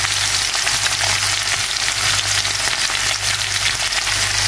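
Chopped onion fries in a hot pan with a loud, continuous, dense sizzle and crackle close by, with no talking.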